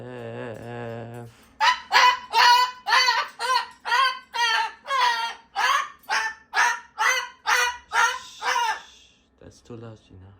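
A bird gives a long series of loud, harsh honking calls, each a rasping burst repeated in a steady rhythm, close up and dominating the sound.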